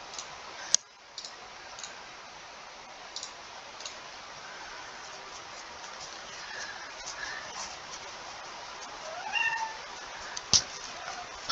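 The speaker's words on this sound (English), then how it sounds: "my cat needs to be let out" A cat meows to be let out, a couple of faint cries near the end over a low steady hiss, with scattered small clicks and ticks.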